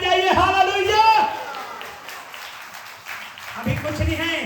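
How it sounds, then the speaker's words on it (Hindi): A church congregation breaks into a patch of scattered, moderately loud clapping, framed by a preacher's voiced exclamations before and after in a reverberant worship hall. "ओ ताली बजाइए, हालेलुया"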